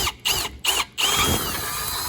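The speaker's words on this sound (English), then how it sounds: "you just take a drill bit, 1/4-inch drill bit, work it in, work it all the way down" A power drill with a 1/4-inch bit bores out a rubber bushing in short bursts, stopping twice before running continuously with a grinding, high-pitched whine, close by.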